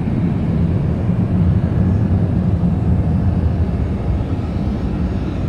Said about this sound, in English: Hey, that was a pretty quick takeoff.